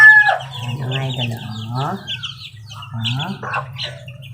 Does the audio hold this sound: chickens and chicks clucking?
yes